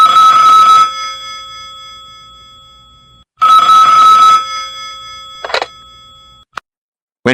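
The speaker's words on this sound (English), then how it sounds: "At that moment the telephone rang." A telephone bell rings loudly in two long bursts, each about a second, with brief clicks and a short noise burst after the second ring; no talking.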